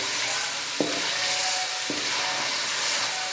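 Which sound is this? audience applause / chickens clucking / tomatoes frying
tomatoes frying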